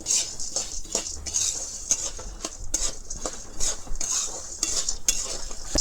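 Popcorn kernels stirred over full heat in a thick kadai, a spoon repeatedly scraping and clinking against the metal in irregular bursts over a soft background sizzle, close and clear with no talking.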